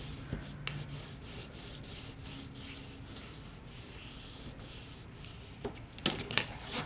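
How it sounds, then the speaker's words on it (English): Paper being burnished onto a graduation cap craft on both sides: a soft, steady rubbing rasp with a few brief louder scrapes near the end, close and alone. "I'm going to burnish it on both sides."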